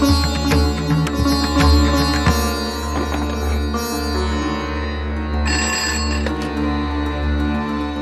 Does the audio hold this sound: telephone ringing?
yes